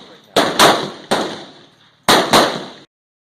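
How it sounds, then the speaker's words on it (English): Benchrest rifles fire at a world record benchrest shooting match: five sharp, loud reports come in uneven pairs and singles, each with a short ringing decay, followed by silence. "you guys got to see the guns actually firing"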